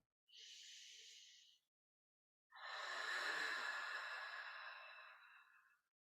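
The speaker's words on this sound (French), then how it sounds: "On inspire encore." Slow yogic breaths during a guided exercise: a short soft breath followed after a pause by a longer, louder breath with a gentle friction at the back of the throat, close and clear, with no talking.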